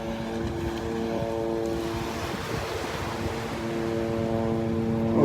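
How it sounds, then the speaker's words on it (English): A noisy helicopter approaches over the beach at Delnor-Wiggins, its droning engine tones rising over wind and surf and growing steadily louder toward the end. "Oh, I hear a noisy helicopter coming up behind me."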